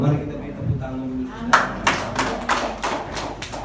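A voice speaks briefly, then a group breaks into sharp, rhythmic clapping, loud and close, in a steady beat.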